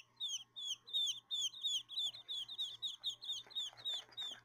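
Baby quails chirp busily while snacking, a rapid run of high, close peeping calls repeated in quick succession, with a faint steady hum beneath them.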